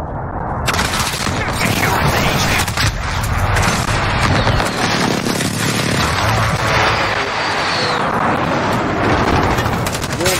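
Airstrike explosions and rapid gunfire in the multiplayer shooter Modern Warfare come as dense, loud bursts of automatic fire and booming impacts that carry on without a break, with game voices mixed in.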